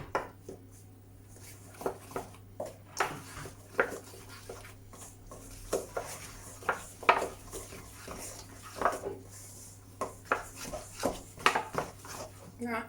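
Cheese bread ingredients mixed in a bowl, a string of irregular clinks, taps and scrapes of a utensil against the bowl, with a person talking softly between them.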